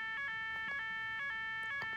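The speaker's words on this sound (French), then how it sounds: "alerte incendie encore" An electronic fire alarm sounds indoors in repeated short bursts of a shrill, steady tone, fairly faint and pulsing at a regular beat, with no voices.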